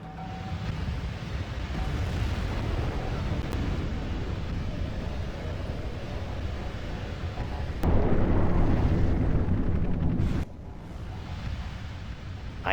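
A nuclear missile launch and detonation in the real-time strategy game C&C Generals Zero Hour, a long dense rumbling roar that swells into a louder blast around the middle, then cuts to a quieter low rumble.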